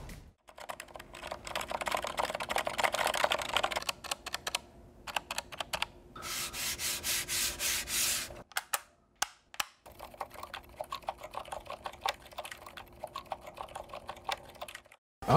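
Typing on an X-Bows curved mechanical keyboard, close and crisp with dense bursts of rapid keystrokes broken by short pauses and a stretch of fast repeated key presses, no talking.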